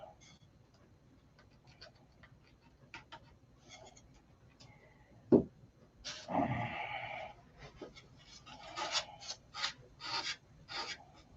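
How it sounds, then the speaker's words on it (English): Hardened CA glue is sanded off a small model aircraft part in quiet, close-up rasping strokes. A single sharp tap comes first, followed by a longer scratchy burst and then several brief rubbing passes. "we'll wick some CA on it and then sand it off"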